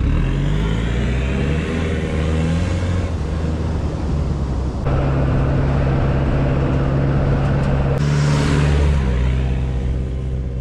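A 4WD drives on beach sand near Buffalo and Belvidere Beach, its engine humming continuously with shifting tone and occasional revs, close and loud, with wind noise over the top.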